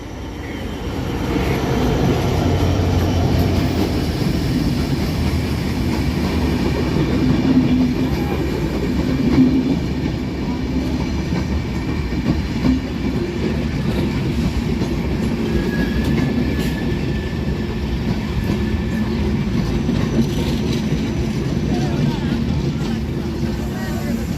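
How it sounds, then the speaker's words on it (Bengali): An express train with a WDM3D diesel locomotive pulls in on the main line at Raninagar railway station, a continuous heavy low roar with faint wheel clatter, and distant voices underneath. "সাতশো পাঁচ আপ একতা এক্সপ্রেস ট্রেনটিকে রানীনগর রেলওয়ে স্টেশনের মেন লাইনে বসিয়ে দেওয়া হচ্ছে"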